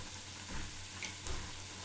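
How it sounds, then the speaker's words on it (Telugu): Moong dal garelu, Warangal-style lentil fritters, fry slowly in oil until golden brown, giving a steady soft sizzle and crackle with a few brief louder bursts, close and unaccompanied by talk. "ఇట్లా ఈ గోల్డెన్ బ్రౌన్ వచ్చే వరకు ఇట్లా వేయించుకోవాలండి."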